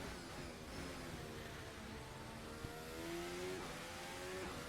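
A race car engine in Assetto Corsa drones steadily through a lap, its pitch rising and falling with gear changes and throttle, loud and continuous with faint tire noise and no voices.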